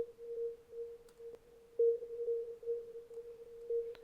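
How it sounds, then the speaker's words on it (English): Reverberated sine-wave hit in electronic music production, processed with auto-panning, compression and sidechain: a steady pure tone pulsing in a regular rhythm, with faint clicks and no voices. "kind of like sine wave reverberated hit"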